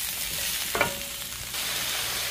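Pepper steak vegetables sizzle in hot oil over high heat, a steady close frying hiss broken by a brief scrape of stirring, with no voices.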